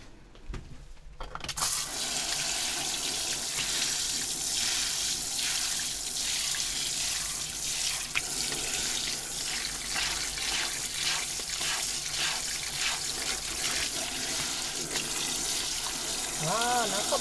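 Tap water runs steadily while a stuffed toy bear is washed by hand in a sink, a continuous close splashing rush that starts after a brief quiet moment and carries on to the end.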